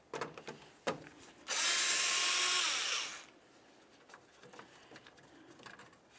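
A power tool whirs in one loud burst of about a second and a half while removing a 10mm bolt from the grille of a 2007-2012 Nissan Sentra, bracketed by quiet clicks and handling noises.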